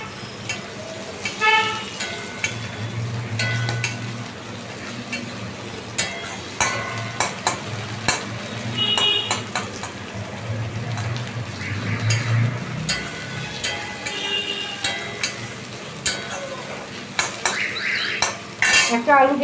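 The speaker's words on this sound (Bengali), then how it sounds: "পেঁয়াজটাকে ভালো করে নাড়াচাড়া করে নেবো।" Onions stirred and fried in a pan, with a constant low sizzle under frequent sharp clinks and scrapes of a spatula against the metal, rhythmic and close, with no talking.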